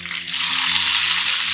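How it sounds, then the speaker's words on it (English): Strips of calamari frying in hot oil give a loud, steady, close sizzle with no talk over it. "This is the noise I love to hear when I'm frying."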